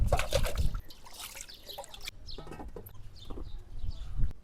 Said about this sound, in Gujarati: સૌથી પહેલા આપણે બધું બકાલું ધોઈ નાખશું